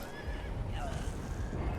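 A horse in Elden Ring whinnies in a short, faint neigh lasting under two seconds, heard alone over a low rumbling game background.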